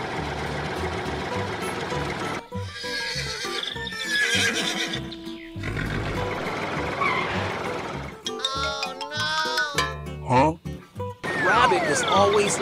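Horse whinnies and clip-clopping hooves sound through a cartoon farm scene with a JCB tractor, rabbit, cow and ducks, coming in several loud bursts amid music, other animal calls and talking voices.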